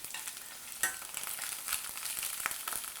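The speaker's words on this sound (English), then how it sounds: "It really starts to sizzle, so be careful." Vegetables fry in hot oil in a pan with a steady, crackling sizzle and scattered sharp pops and spits, fairly close and with no voices over it.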